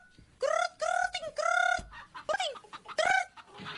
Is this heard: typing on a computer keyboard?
no